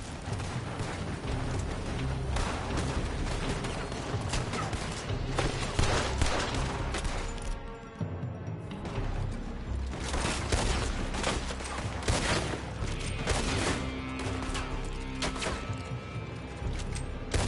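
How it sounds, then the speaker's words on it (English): Sustained gunfire pours from a building in Red Dead Redemption 2, with dense overlapping rifle and pistol shots crackling steadily for the whole stretch, loud and close, with one brief lull midway. "They're shooting from that building!"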